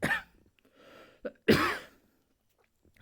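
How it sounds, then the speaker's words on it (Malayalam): A few separate coughs, one near the start and a louder, harsher one midway, with a short throat sound between and quiet gaps after. "ചെറിയൊരു ചുമയും കാര്യങ്ങളൊക്കെ ഉണ്ട്"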